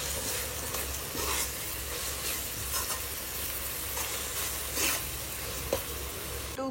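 Onions fry in a pan with a steady, close sizzle and crackle, broken by occasional scrapes and stirring, with no voices.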